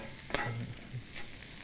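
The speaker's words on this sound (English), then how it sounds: "So it chars really beautifully whenever you leave it in a pan for a minute." Corn kernels char and sizzle in a hot pan, giving a steady frying crackle with a few stirring scrapes and clinks over it.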